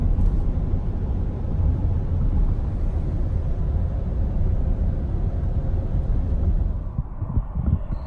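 A pickup truck fitted with an aftermarket Corsa exhaust drones with a steady low rumble while driving, loud and constant with road and wind noise, before easing off near the end.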